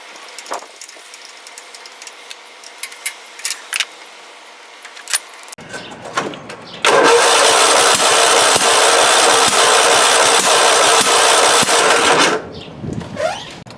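A Kohler Command small engine with suspected off timing and a faulty flywheel key cranks, then runs roughly for several seconds, popping back through the carburetor. The loud, continuous churning ends abruptly and is preceded by scattered clicks and handling noises.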